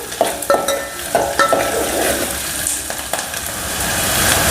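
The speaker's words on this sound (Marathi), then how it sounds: "हे दोन मोठे कांदे मी बारीक चिरून घेतले ते टाकते छान परतून घ्यायचं" Two large, finely chopped onions sizzle and fry in a pan for a village-style urad dal dish, with spoon stirring strokes and scrapes over a steady hiss.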